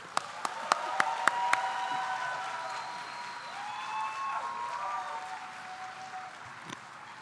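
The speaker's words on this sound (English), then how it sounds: "Please help us welcome with a warm applause Maria Alejandra." Several sharp individual claps ring out at the start, then a warm, sustained round of audience applause greets a speaker at an awards ceremony, steady and fairly soft, tapering near the end.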